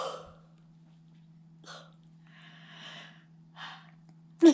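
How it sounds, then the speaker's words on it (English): A person yawns indoors: a soft, breathy, drawn-out voiced yawn with a few quieter breaths around it over a faint steady hum. "You yawned."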